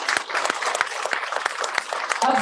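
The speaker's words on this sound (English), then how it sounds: "round of applause, please." Audience applauding after a stage performance at a Salangai Poojai event, a steady wash of clapping at moderate level that continues without pause until the end.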